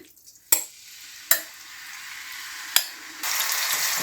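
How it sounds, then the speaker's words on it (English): Chicken hitting hot olive oil in a wok, sharp clattering stirs and drops over a steady sizzle that swells louder near the end, close up with no talk. "you just add into your wok or a frying pan, whichever you've got, a bit of olive oil. So I'll just add my chicken"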